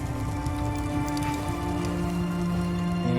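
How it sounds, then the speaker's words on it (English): Hail pelting down in a video game, a dense, steady patter across the whole stretch with a constant hum of game ambience beneath, loud and close throughout. "Hail's too strong"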